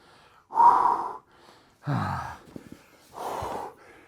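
Three heavy, ragged breaths come close and loud after a brutal bodyweight push-up pyramid, each a long gasping exhale separated by short quiet pauses, with a snort-like catch in the middle.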